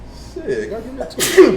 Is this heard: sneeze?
yes